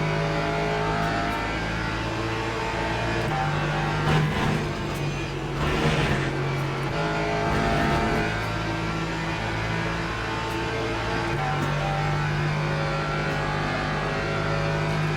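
Race car engines from the Le Mans Ultimate racing game drone steadily and loudly throughout, with sustained revving pitch shifts as cars accelerate and pass, including a Ferrari, with no talking.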